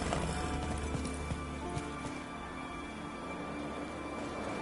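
Roach, a horse in The Witcher 3 game, trotting with a steady clip-clop of hooves alongside a continuous game ambience that may include rain.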